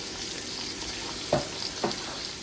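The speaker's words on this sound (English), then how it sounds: "So the meat's finished frying now" Steady sizzling of meat frying in hot oil for Ofada stew, with two brief scraping stirs partway through, no voices.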